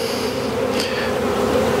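Honeybees buzz steadily in an opened hive on a warm winter day, a close, dense drone with no talk over it.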